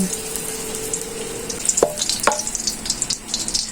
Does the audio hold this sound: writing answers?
no